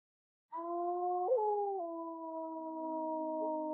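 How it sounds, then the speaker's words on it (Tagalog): Dogs howling at night in a residential neighbourhood, a steady drawn-out howl with harmonics that rises, wavers and then holds for several seconds, clear and fairly close against silence. "tumindi ang alulong ng mga aso sa lugar namin"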